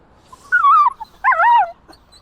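A pet dog whimpers in two drawn-out, wavering whines with a short gap between them. The sound is close and fairly loud, and nobody talks.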